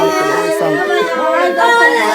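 Mourners at the home of a poor, grieving Dalit laborer family cry and wail with a loud, wavering voice that rises and falls without pause.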